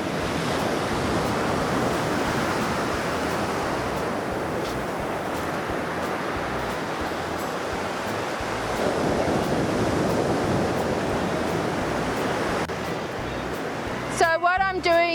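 Ocean surf rolls onto a beach at an incoming tide, a continuous loud wash of breaking waves with some wind buffeting the microphone, steady throughout and briefly disturbed at the end.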